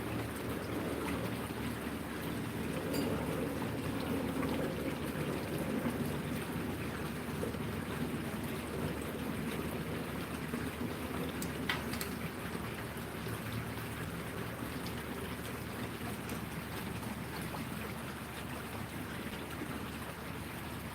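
Steady, dense rain patters down outdoors in a continuous close wash of noise, with no voices and no breaks across the whole stretch.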